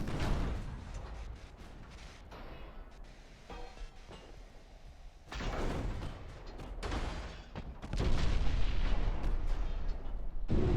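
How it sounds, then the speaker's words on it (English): Torpedoes strike a warship's bow in the naval video game Ultimate Admiral: Dreadnought, with repeated heavy booming blasts and rumbling impacts, the loudest burst building near the end. "Oh god, we're gonna take like 3 more torpedoes."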